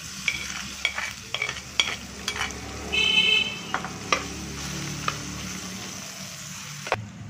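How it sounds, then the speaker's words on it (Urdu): Carrots fry lightly in hot oil in a frying pan, giving a soft, steady sizzle broken by scattered scrapes and clicks of stirring, close and fairly quiet with no talk. "اب ہم نے گاجر ڈالنی ہے اور گاجر کو ہلکا سا فرائی کر لینا ہے"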